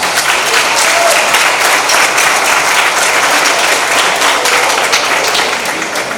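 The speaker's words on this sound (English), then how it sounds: "Let's give them another round of applause" A school board meeting audience gives a steady, dense round of applause, loud and close, many hands clapping continuously for about six seconds with no pause.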